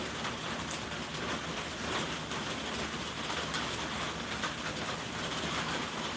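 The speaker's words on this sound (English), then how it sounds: "now we're gonna have some rain ASMR in here too" Steady rain ASMR, a dense, even hiss of falling rain that holds at one level throughout with no pauses and no voices.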